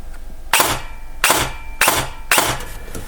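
Four evenly spaced, loud, sharp shots from a T238 gel blaster with a mosfet firing on semi-auto, each crack followed by a short mechanical rattle, close and with no talk.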